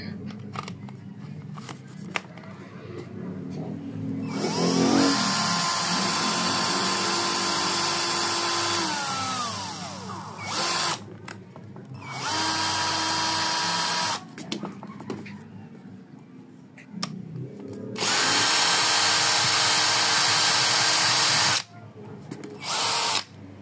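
A repaired cordless drill runs in several bursts of whirring, starting and stopping between spells of quiet, loud and close, with some voice heard in the pauses.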